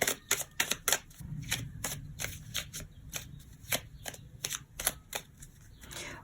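Playing cards being cut and shuffled by hand during a tarot-style reading, a rapid run of crisp papery flicks and snaps, close and fairly quiet, with a brief soft rustle at the end.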